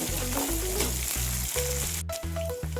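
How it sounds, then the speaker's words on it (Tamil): Garlic and small onions sauté in a hot pan with a steady, close sizzle and occasional stirring, while a melodic tune plays throughout. "சின்ன வெங்காயம் இல்லைன்னா பெரிய வெங்காயம் சேர்த்து நல்லா வதக்கி"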